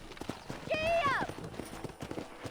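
Horse hooves clip-clopping in the video game Red Dead Redemption, a steady rhythmic trot of soft thuds with a whinnying neigh partway through and a voice calling out over it.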